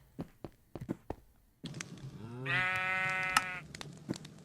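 A loud, drawn-out goat bleat with a wavering tone in modded Minecraft (Stoneblock 4), preceded by scattered clicks and thumps, with game-like background noise throughout.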